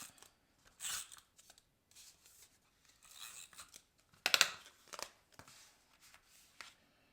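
Scissors snipping the small tip off a paper card for a handmade card, several short crisp cuts with light paper rustling and handling in between, close and fairly quiet.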